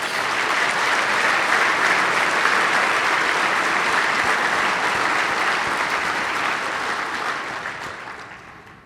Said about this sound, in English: How about a round of applause for Frank?